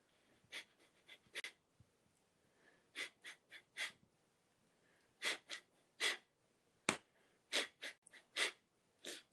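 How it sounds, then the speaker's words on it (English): Forceful, rhythmic exhales of a fire breathing exercise: about twenty sharp nasal bursts, close and loud, come in quick clusters separated by short pauses, with no talking. "with fire breathing, you're working on the exhale. You're tapping the exhale."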